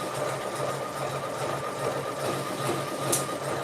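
An embroidery sewing machine stitches a clutch in the hoop with a rapid, steady mechanical whir and needle chatter, close and continuous with no pauses or voices.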